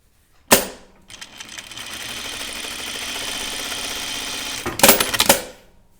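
An industrial sewing machine starts with a sharp clunk, runs in a loud, steady mechanical whir for about four seconds, then ends with a few quick thumps as it stops.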